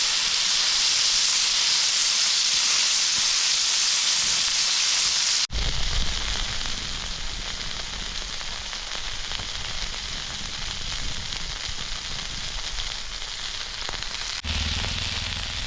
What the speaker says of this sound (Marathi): परत एकदा पलटी करून घेऊया आता बऱ्यापैकी आपले मासे बोंबील फ्राय झालेले आहेत